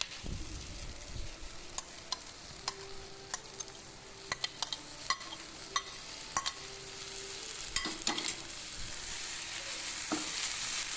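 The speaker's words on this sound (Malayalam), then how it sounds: "എണ്ണ നന്നായി ചൂടായി വന്നിട്ടുണ്ട് ഇതിലേക്ക് നമുക്ക് സവാള ചേർത്ത് കൊടുക്കാം" Five large chopped onions hit hot oil in a pan for a Malabar-style prawn roast, hissing in a steady, close sizzle with scattered sharp crackles and spoon-stirring clicks throughout; no one talks.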